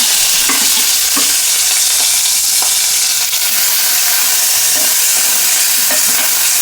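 Tomato pieces, green chillies and onions frying in about two spoons of oil in a pan while being stirred, a steady loud sizzle with repeated scraping stirs throughout and no talking.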